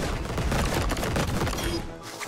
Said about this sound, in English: Now we're shooting the ASCII letters as fireworks